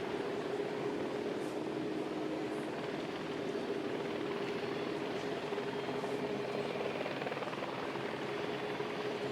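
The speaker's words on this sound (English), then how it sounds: "it looks like the A350 is heading in our direction" An Airbus A350 XWB taxis toward the delivery center, its steady turbine whine and broadband roar holding level and fairly close throughout, with no talk over it.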